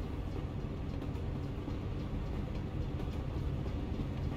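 A train in American Truck Simulator rolls by on a road trip south into New Mexico, a steady low rumble of rail cars with faint clacking, constant and moderately near, with no voices.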